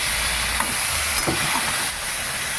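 Chicken pieces sizzle in refined oil in a wok while being lightly stirred, a loud dense crackle with a few soft scraping strokes, close and without speech.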